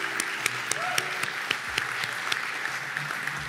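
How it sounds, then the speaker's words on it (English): An audience applauds a guest speaker at a dinosaur lecture in a presidential center, with steady clapping and a few distinct sharp claps standing out close by. "If we could give him one more round of applause"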